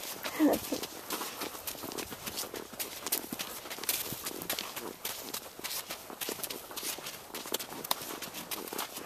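Horse hooves clip-clop in a quick, steady rhythm while the horse is ridden, close and continuous, with occasional voices in the background.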